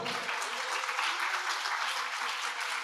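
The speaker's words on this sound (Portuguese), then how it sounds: "Aplauda o Senhor." Steady, dense applause from a church congregation during a sermon, many people clapping together at an even level throughout, with no voices over it.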